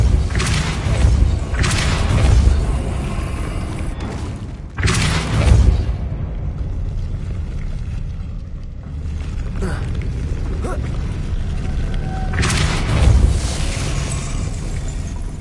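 Booming, whooshing Depulso spell blasts from the video game Hogwarts Legacy, several heavy thumping bursts over a steady rumbling game ambience, loud and close.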